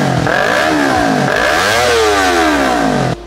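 A motorcycle engine revs loudly and continuously up close, its pitch climbing, dropping and climbing again in repeated sweeps before cutting off abruptly near the end.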